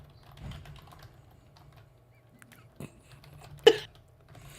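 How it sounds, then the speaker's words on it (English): Sparse, scattered keystrokes on a computer keyboard tap quietly in bursts, with one sharper clack near the end, against a low steady background hum. "I'm getting a furious typing response."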